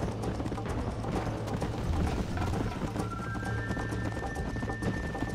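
Horse hooves pounding at a gallop in the Western video game Red Dead Redemption, a rapid, close, continuous clatter during a horse race, with a low rumbling bed underneath.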